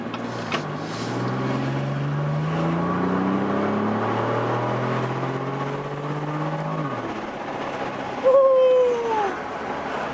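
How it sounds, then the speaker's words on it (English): A 2018 Chevrolet Colorado ZR2 truck accelerates hard, its exhaust rising through several gear pulls before backing off, then a brief squeal and a short voice near the end. "See if you guys can hear this exhaust."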